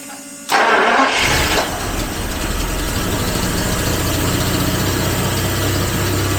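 A 1977 V12 coupe, long left standing and missing the rear section of its exhaust, cranks briefly and fires into a loud, close start, then settles into a steady, rough-edged idle that carries on for several seconds.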